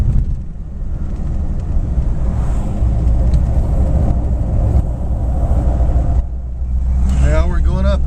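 A 1953 Cadillac Series 62 coupe with dual-range Hydramatic transmission drives through hilly road, its engine rumbling steadily and loud throughout, with a brief dip near six seconds before climbing again; a voice speaks near the end.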